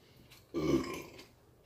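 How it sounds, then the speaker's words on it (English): A single loud, drawn-out burp erupts close by after a quiet pause, lasting about half a second before trailing off into near silence. "I have about 69 burps inside of me."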